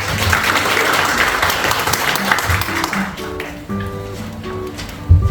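A room of members claps in approval at a cooperative's founding general meeting, steady applause that thins out midway while low tonal hum and a few sustained tones sit underneath, ending with a sharp bump.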